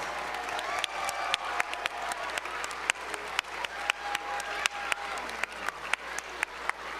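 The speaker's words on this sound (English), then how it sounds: "Let's give everybody a huge round of applause" Applause at a school citizenship challenge event, a few distinct sharp claps standing out over a lighter spattering of clapping and crowd murmur.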